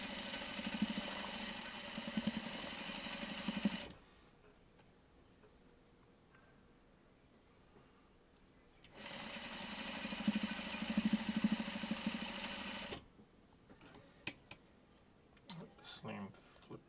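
A sewing machine stitching the last seam runs in two steady, buzzing bursts of several seconds each, separated by a quiet pause. Scattered clicks and handling noises follow.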